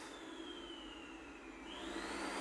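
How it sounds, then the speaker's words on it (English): Vacuum cleaner running in a nearby garage, a faint distant whine with a steady tone that dips and then rises in pitch as the motor revs up, over a low background hum. "Why would you want to vacuum a garage?"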